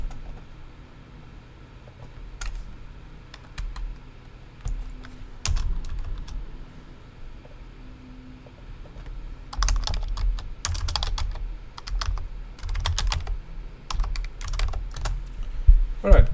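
Typing on a computer keyboard at a Linux terminal, with scattered single keystrokes early on and denser bursts of clicking later, close and fairly quiet.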